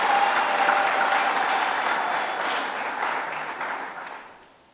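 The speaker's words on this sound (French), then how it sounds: "Je sollicite les chefs d'établissement pour exprimer leur joie, les applaudissements" Applause from an assembly at a school coordination ceremony fills the clip, a dense, steady clapping that holds for several seconds and then fades away at the end.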